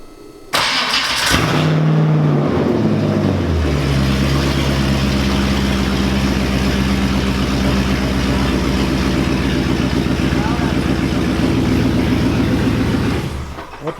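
A Subaru BRZ with a swapped-in LS3 V8 cranks and fires up, then settles into a loud, steady, rumbling exhaust idle that holds close by for the rest of the clip, with no talking.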